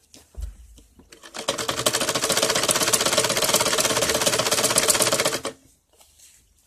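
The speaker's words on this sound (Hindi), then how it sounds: "अभी देखिए मैं इस पे सीधी सिलाई लगा दूंगी" A sewing machine runs a straight seam through fabric layered with buckram, a steady fast mechanical rattle lasting about four seconds, close and loud, with quiet handling before and after.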